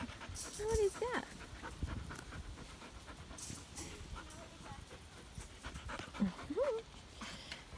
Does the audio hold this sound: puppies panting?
yes